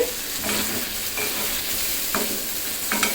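Jute leaves fry in a pan with a steady sizzle, punctuated by several scraping stirs of a spatula, close and moderately loud with no talking.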